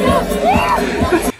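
A festival crowd cheers, whoops and yells loudly and close by for over a second, then the noise cuts off abruptly.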